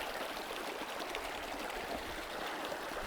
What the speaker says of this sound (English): by filling up this bottle and then squeezing it and pushing water out of this filter